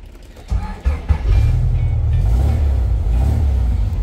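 A 1974 VW Beetle 1303 with an aftermarket Burhan muffler starts up and settles into a deep, loud, bassy rumbling idle, close and steady, with a few brief revs near the start.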